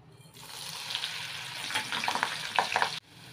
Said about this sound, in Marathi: मिरची पण तळून घेऊया.